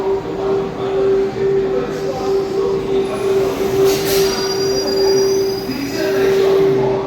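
A MEMU passenger train brakes to a stop, its wheels giving a steady, piercing squeal over the low rumble and clatter of the coaches, heard from inside the train.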